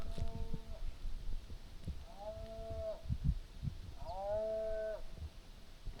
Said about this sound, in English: Sounds like a cow in distress or something.